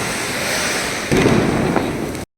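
Diwali firecrackers bursting in a dense, continuous crackle, loud and close, with a heavier surge of pops midway before cutting off abruptly.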